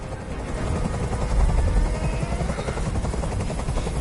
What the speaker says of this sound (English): I need the helicopter to not be here, though.